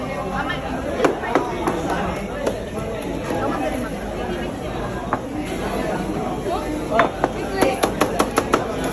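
A knife chopping and slicing street food at the Pungko Pungko stall in Fuente, Cebu: sharp, irregular knocks that quicken into a rapid run near the end, under steady crowd chatter and voices.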